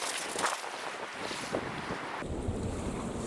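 Wind blows steadily and loudly in gusts, rushing through trees on high ground, with heavy buffeting against the microphone.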